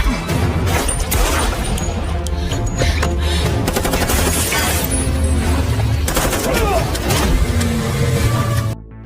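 Gunfire rattles through a fierce gunfight in an action film, dense bursts of shots mixed with crashes and engine noise, loud and continuous with a film-score backdrop.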